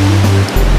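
Ocean surf washes onto a beach in Hawaii, a loud, close, broadband roar of water that dips for a moment and then surges back, with no voices.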